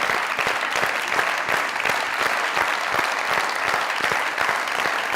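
Studio audience at a comedy talk show clapping for a guest, loud dense applause sustained evenly from start to finish.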